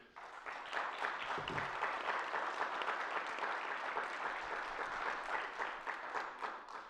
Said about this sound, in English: I think give them a hand